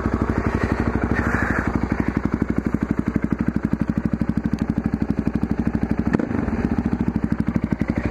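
A motorcycle engine with newly fitted throttle cables idles close up, giving a steady, rapid, even chugging pulse throughout with a brief knock partway through and no talking.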